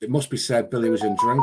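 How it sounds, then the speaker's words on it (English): A mobile phone ringtone sounds in the second half as a steady electronic tone, partly masked by someone talking continuously over it. "Pardon me, guys, that was my phone going off."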